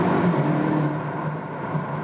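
2020 BMW M8 Gran Coupé with 625 hp engine revving as it is manually downshifted, a loud, close, fluctuating mid-to-low engine drone with no talk.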